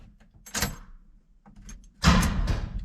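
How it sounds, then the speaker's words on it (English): A barn door is opened with a couple of scraping, rattling slides, one short and faint, then a louder, longer grinding rumble near the end. "I'm going to open up the door."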